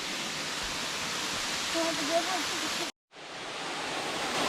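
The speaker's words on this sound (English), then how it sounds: "We are at the waterfall." A waterfall in a forest park roars as a continuous broad rush of falling water, loud and steady, with faint voices briefly under it and a short cut to silence near the end.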